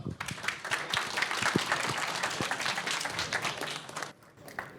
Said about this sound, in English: Please welcome Martin Kraus with applause